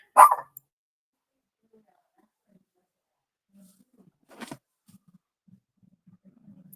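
A single loud, close dog bark opens the clip, followed by near silence with a faint second bark and a few soft, distant thumps.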